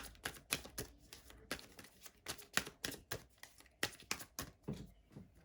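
Rapid papery riffling and soft snapping of cards being shuffled, irregular bursts of crisp clicks close to the listener, no voices.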